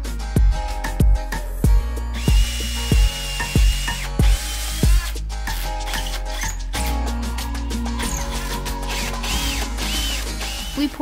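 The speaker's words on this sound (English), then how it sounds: "I wanted to test out which drill bit would be the best for making holes" Power drill boring holes in wood to test drill bits, heard as a series of short, loud bursts of whirring in quick succession, then a longer steadier stretch of mechanical drilling and rattling.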